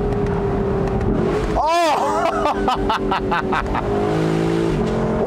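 A 2021 Lexus LC500 Convertible roars loudly as it accelerates, its 10-speed transmission snapping through quick upshifts with rising engine sweeps, and a voice exclaims briefly.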